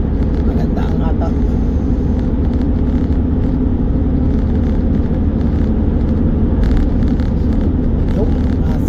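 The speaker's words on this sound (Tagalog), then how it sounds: "Pag-apak ko ng silinyador, sumusunod, nagre-response agad siya." Nissan NV350 van engine revving as the accelerator is pressed, a steady loud low rumble filling the whole stretch, with a voice talking over it.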